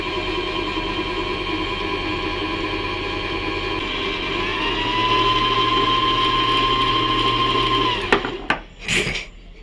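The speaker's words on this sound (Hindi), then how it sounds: "देखिए सुई नहीं घूम रहा है और सिर्फ बॉबिन फिल हो रही है।" An Usha Janome Stitch Magic sewing machine winds its bobbin with a steady close motor whir that rises in pitch midway, runs evenly, then stops, followed by a few handling clicks.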